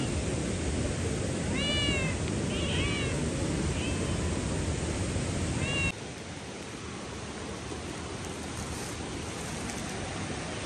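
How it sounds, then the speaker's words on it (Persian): A cat meows several times in a row, clear drawn-out mews close by over a steady outdoor wash of noise, then a final meow before the sound drops to quieter background hiss. "بیا پیشی بیا."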